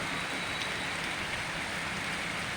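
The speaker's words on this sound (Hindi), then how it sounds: "और झमाझम बारिश हो रही है।" Heavy downpour at a naturopathy and yoga centre in Lucknow, India, a dense steady hiss of rain drumming on surfaces throughout, loud and continuous with no voices.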